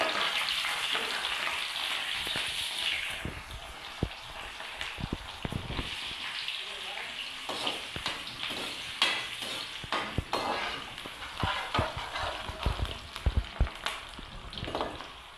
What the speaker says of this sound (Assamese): এয়া মই পিয়াজখিনি দিলে ভালদৰে লৰাই দিছোঁ